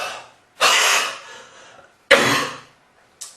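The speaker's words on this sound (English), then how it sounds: "do a big strong cough to clear the top" Two strong, harsh coughs close by, a deliberate sputum-clearing cough, separated by a pause, followed by a brief faint third burst.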